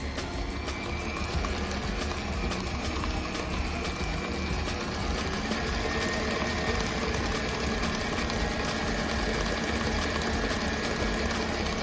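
An electric mixer beats pound cake batter with eggs in a bowl, giving a steady, continuous whirring drone at close range for the whole stretch, with no voices.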